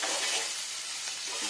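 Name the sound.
boiled jackfruit and potato frying in white oil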